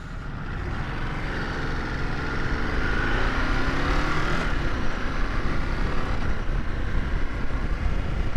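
A Ducati DesertX motorcycle engine pulls away and rises into a steady, loud drone. Wind and road noise come through over a continuous engine hum, and no one speaks.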